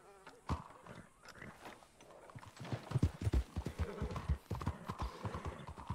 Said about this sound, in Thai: ข้าอยากขี่ม้า อยากขี่ม้าอยากขี่ม้า